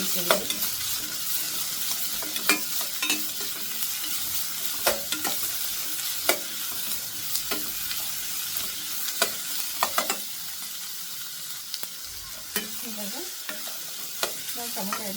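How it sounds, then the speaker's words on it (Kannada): Green chillies, garlic and onion fry in hot oil for a mushroom dish, with a steady sizzle and repeated close scrapes of a stirring spoon against the pan, and no voices. "ಹಸಿಮೆಣಸಿಕಾಯಿ ಬೆಳ್ಳುಳ್ಳಿ ಈರುಳ್ಳಿ ಇದು ಸ್ವಲ್ಪ ಫ್ರೈ ಮಾಡ್ಕೊಳ್ಳೋಣ"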